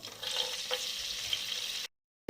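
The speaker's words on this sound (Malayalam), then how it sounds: "ചൂടായിട്ടുണ്ട്. നമുക്ക് ഇതിനകത്തേക്ക് വെളുത്തുള്ളി ഇട്ട് കൊടുക്കാം." Garlic sizzling steadily in a hot pan for a Kerala-style mandhi, a continuous close frying hiss with no voices, cutting to silence near the end.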